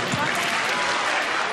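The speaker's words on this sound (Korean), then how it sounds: "박수가 계속 멈추지 않는데" A concert hall audience keeps applauding for an encore, a steady wash of clapping from a large crowd that fills the room without pause.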